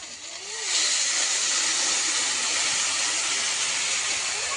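Water is poured onto taro frying in a pan and sets off a loud, steady hiss that rises sharply and then holds without a break.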